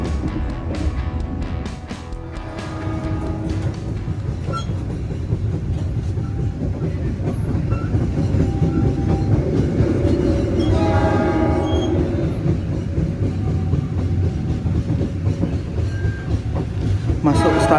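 A local commuter train on the Surabaya–Sidoarjo line rumbles steadily as it runs into Waru station, with a continuous low clatter of wheels and carriages and a few tonal horn-like calls rising over the noise.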